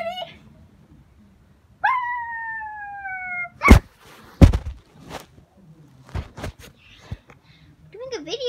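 A dog howls in long, drawn-out tones, then gives short whimpers and sharp yelps, close and loud with quiet gaps between the calls.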